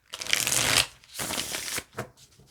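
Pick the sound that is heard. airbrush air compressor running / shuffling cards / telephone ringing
shuffling cards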